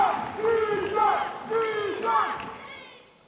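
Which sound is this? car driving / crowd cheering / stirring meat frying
crowd cheering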